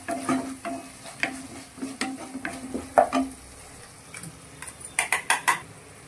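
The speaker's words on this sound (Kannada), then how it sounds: "ಇವಾಗ ನಾನು 1 ಸ್ಪೂನು ಬೆಲ್ಲ ಆ್ಯಡ್ ಮಾಡ್ಕೊಳ್ತಿದ್ದೇನೆ." A spoon stirs jaggery into ivy gourd masala in a pan, with close, irregular scrapes and clinks against the metal and a light sizzle underneath.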